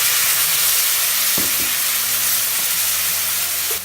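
A ground masala paste fries with garlic and curry leaves in a pan for a Malvani prawn curry, giving a loud, steady, close hiss of sizzling oil that holds for the whole stretch.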